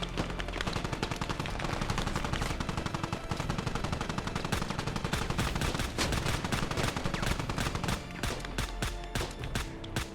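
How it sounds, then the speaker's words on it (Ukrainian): A machine gun fires in a squad-based video game, rapid dense bursts of automatic gunfire running almost continuously for the whole stretch, loud and close with overlapping shots. "Сюди вже кулемет працює."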